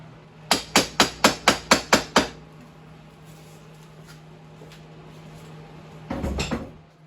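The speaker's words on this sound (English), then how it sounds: "You're going to give it a couple whacks on the end here, and the CV will come out." A hammer striking the end of a Can-Am Outlander/Renegade rear CV axle, with eight sharp, evenly spaced metallic whacks in quick succession, close and loud, followed by a pause and a brief rattling clatter.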